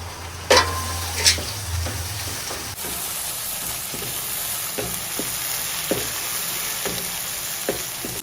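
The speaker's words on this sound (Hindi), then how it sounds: "प्याज को हम फ्राई करेंगे ब्राउन होने तक" Onions frying in a pan for Sindhi biryani, a steady close sizzle and hiss running throughout, broken by occasional soft knocks and scrapes of stirring, with a couple of louder clatters at the start.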